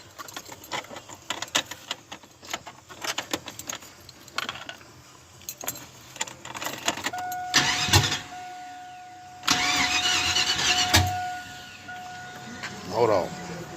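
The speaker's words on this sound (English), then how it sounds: "Got some stuff done to the truck today, and fired it up inside the truck today." A budget Chevrolet S10 truck engine, worked on and started inside the truck, turns over and idles with a steady hum; a rising rev surge stands out midway and again near the end, with clatter and some talk in between.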